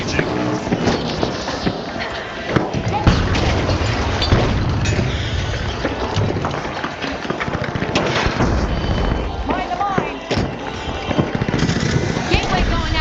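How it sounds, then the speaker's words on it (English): Grenade blasts in the online shooter The Finals land as heavy booms amid constant game noise and gunfire, with a player talking over the action throughout. "Throwing two grenades."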